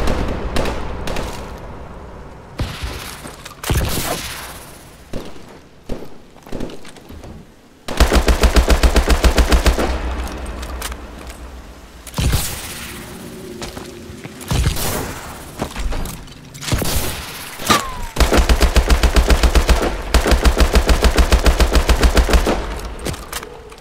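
Gunfire in the video game Call of Duty Advanced Warfare: loud, close bursts of rapid automatic fire and scattered single shots, with sustained long volleys in two stretches and brief pauses between.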